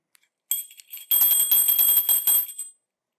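A bright, ringing notification bell chime, a brief tap and then a sustained shimmering tone that lingers for about two seconds before cutting off, loud and alone.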